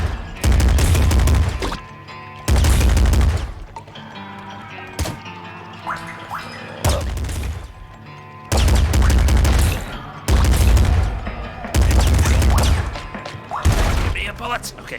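Rapid gunfire in the top-down shooter Nuclear Throne comes in several dense, loud bursts of a second or two each, separated by short quieter gaps with game sounds, and a voice talks over parts of it.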